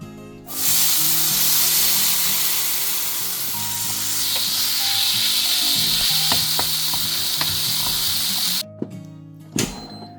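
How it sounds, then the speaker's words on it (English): Sausages frying in a pan on a home stove, a steady loud sizzle with spitting crackles that runs for most of the time before cutting off abruptly near the end, with a couple of brief knocks afterward. "I like to first steam and air fry the sausages in the air fryer and then put it in the pan."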